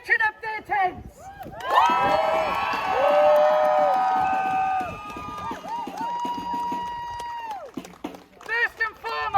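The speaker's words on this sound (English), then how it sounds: "Now make some noise for the people pitching up their tents" A crowd at a student Palestine solidarity protest at Cardiff University cheers, whoops and shouts loudly for several seconds, swelling and then tapering, with voices over it at the start and end.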